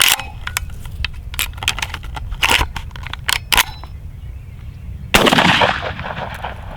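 A shotgun fires a cut shell, with a series of sharp mechanical clicks and snaps before a single loud, close blast that trails into a short rumbling decay.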